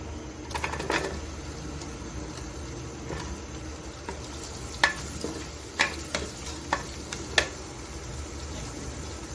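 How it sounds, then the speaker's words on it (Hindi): Onions frying in hot oil with cumin powder for Hyderabadi dum keema, a steady close sizzle punctuated by several sharp scrapes and taps of a spatula stirring, without talk. "इसमें हम ऐड कर देते हैं प्याज और उनको जो है हम भून लेते हैं"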